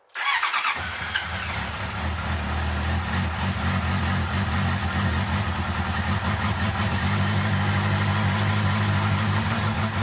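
A rebuilt Honda CB650R motorcycle engine cranks briefly, catches and settles into a steady, loud idle that runs on evenly and close by.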